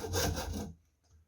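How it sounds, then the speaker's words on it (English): A hand saw draws a single short rasping stroke through a plastic syringe clamped in a vise, close and fairly soft, then stops abruptly into near silence. "we'll get our saw. We're going to cut that off as neatly as we can."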